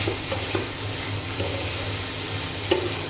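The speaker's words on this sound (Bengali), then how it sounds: "এখানে যে ভাজিটা হচ্ছে" Vegetable bhaji sizzles in a pan, frying with a steady crackle broken by a few sharp stirring scrapes and clinks, close and fairly loud, with no talking.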